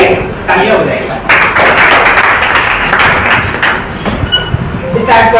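A seminar audience at a motivational personality-development session in Chhatarpur bursts into dense, sustained clapping with thumps, loud and close, while voices speak over it.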